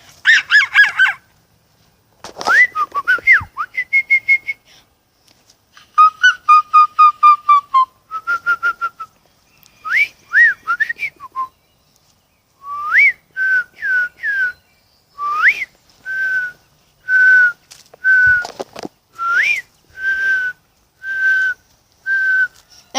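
A person whistles and vocalizes an imitation of a mourning dove's mating call, a long close sequence of hooting, cooing notes, some grouped in rapid bursts and later settling into a steady repeated pattern.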